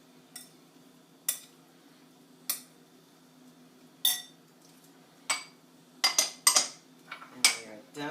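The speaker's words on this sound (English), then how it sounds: "And we're going to stir this all in very gently." A utensil clinks against a pan while sweated green onions are gently stirred into crab, lobster and shrimp in a Ninja Foodi Grill, a series of light scattered metallic taps, quiet and close, clustering near the end.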